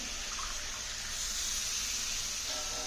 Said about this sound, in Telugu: ఇప్పుడు దీనిలోకి మన గ్రేవీకి కావాల్సిన నీళ్ళు పోసుకుందాం